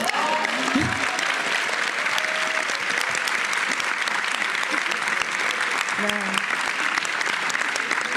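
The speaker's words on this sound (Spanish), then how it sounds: "propongo un aplauso a nuestra traductora para sordomudos" An audience at an architecture panel discussion claps for the sign language interpreter, a steady, even patter of applause throughout, with brief bits of speech and a voice cutting in near the start and later.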